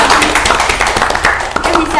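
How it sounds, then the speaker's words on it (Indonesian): A group of high school students claps together in a room during a casual school podcast session, brisk overlapping claps lasting a couple of seconds with voices talking over them. "Kita beri tepuk tangan dulu."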